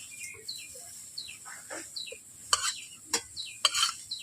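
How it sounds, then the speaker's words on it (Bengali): Fried cauliflower florets scraped out of a wok with a spatula, soft metallic scrapes and faint sizzling while birds chirp in the background. "ফুলকপিগুলোকে কড়াই থেকে নামিয়ে নিচ্ছি।"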